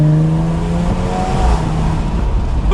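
A 2021 Jaguar F-Type R-Dynamic convertible, driven with the top down, gives a loud, close exhaust rumble, its engine note rising and shifting steadily throughout.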